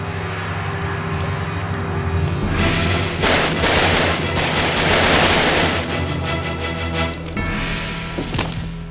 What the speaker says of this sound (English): Two shots strike Dillinger.